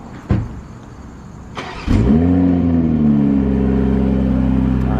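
A BMW M340i engine fires up after a couple of sharp clicks, then settles into a loud, close, deep burbling idle that holds steady, with no voices over it.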